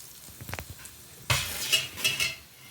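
A few light utensil clinks, then hot oil goes into a pakora batter mixture with a sudden burst of sizzling and spoon stirring against the bowl, close and fairly loud.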